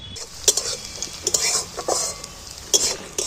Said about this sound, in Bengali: দেখো পেঁয়াজটা কিন্তু ভাজা ভাজা হয়ে এসছে।